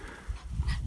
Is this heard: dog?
yes